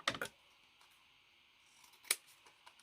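Scissors trim a cut piece of material for a specimen slide craft project: a quick pair of crisp snips at the start, then a quiet pause before another sharp cut, close and faint.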